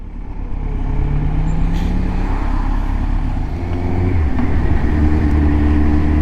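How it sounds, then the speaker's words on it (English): Dense road traffic heard from a Kawasaki Z1000 motorbike stuck in a queue forms a loud, continuous rumble of engines, with vehicle engine tones rising and falling through it. "Traffic is absolutely terrible."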